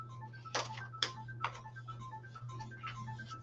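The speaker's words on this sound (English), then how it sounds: "Sounds like a ringtone." A quiet electronic ringtone plays a repeating pattern of short melodic beeps over a low steady hum, with a few soft clicks.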